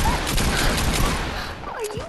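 Flintlock gunfire in a video game crackles as a rapid burst of overlapping shots over about two seconds, fairly loud and close, with no talking.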